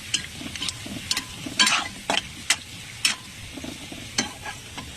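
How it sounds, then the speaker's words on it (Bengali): Fuchka puris frying one by one in hot oil, giving a steady low bubbling sizzle broken by sharp spatters and the clatter of a utensil, close and fairly loud with no voices. "তেল গরম হয়ে গেছে, এক এক করে ফুচকা দেবো"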